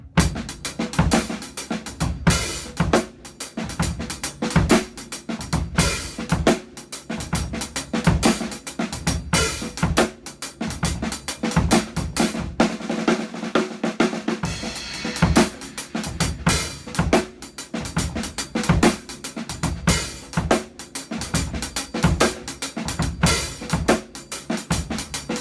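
A drum set plays two alternating rhythms three times through, then a fill-like break on the fourth pass, with steady punchy kick, snare and cymbal hits throughout and no talking.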